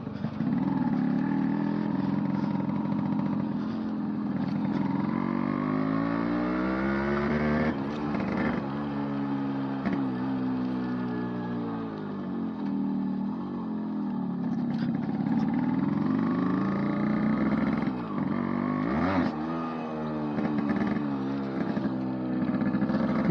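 A Yamaha RX100 motorcycle with stock exhaust runs close by, its two-stroke engine burbling at idle and revving up and down repeatedly, with no one talking.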